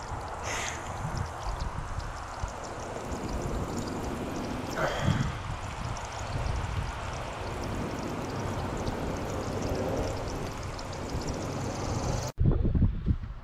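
Strong, relentless wind roars steadily through moving trees outdoors on a residential street, a continuous rushing noise with gusty swells and microphone buffeting, ending in a sharp knock.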